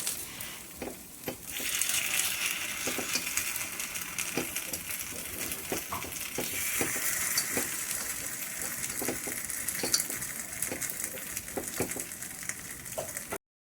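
Rava appe fry in a pan with a steady, close sizzle while a spoon tip turns them, adding light taps and clicks throughout.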